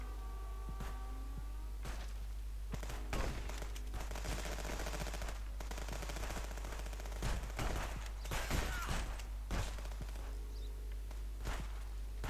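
Shotgun blasts in the Contraband Police video game, a series of sharp, loud reports spread across the clip over a steady background hum, some close together in quick bursts.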